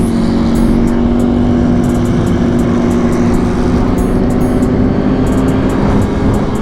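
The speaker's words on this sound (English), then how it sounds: "Got the Aprilia and the V4 going at it." Aprilia RSV4 and Ducati V4 superbikes rev hard together, a loud, sustained, close engine roar with steady high-pitched drone and occasional revs rising over it, no talking.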